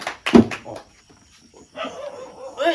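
A dog gives a short burst of barks up close, followed by quiet and then a few softer yips and whines.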